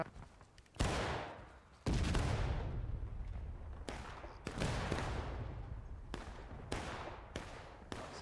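Gunfire in the Civil War video game House Divided, played in campaign mode, comes as a string of loud musket volleys. Each has a long, rolling tail, and they repeat irregularly about every second with no talk over them.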